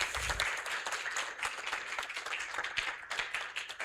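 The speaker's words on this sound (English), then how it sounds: "that round of applause is not enough" Audience applause at a day-long conference session, a dense, steady wash of many hands clapping throughout at moderate level, with no talk over it.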